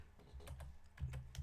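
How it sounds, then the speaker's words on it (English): Typing on a computer keyboard while entering text into an Excel sheet, a handful of soft quick keystrokes over a low background hum, faint and close. "I'm going to type in there in capital letters"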